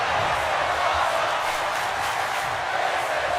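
Wrestling crowd at an XFW event filling the arena with a steady, dense roar of cheering and chanting voices, continuous and loud for the whole stretch.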